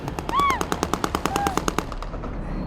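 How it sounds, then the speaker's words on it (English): Rapid automatic gunfire in Syria, a fast regular burst of sharp reports at moderate distance, with a faint whistling sound near the start, then fading into quiet. "Despite the gunfire, are you happy?"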